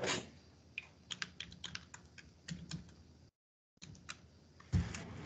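Fingers type on a computer keyboard during an online class, quick irregular clacks close to the microphone, pausing for a moment before a final short burst of keystrokes and a soft thump.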